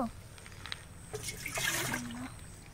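Mountain spring water pours and gurgles into a clay pitcher, a quiet splashing trickle that swells in the middle and rises in pitch as the vessel fills.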